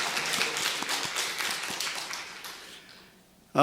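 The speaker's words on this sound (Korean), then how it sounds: "오늘 부활하신 주님을 우리 박수로서 축하하고 영광을 돌리겠습니다" A church congregation at an Easter Sunday service applauding together: brisk, dense clapping that starts strong and gradually thins and fades over a few seconds, followed by a sudden voice at the very end.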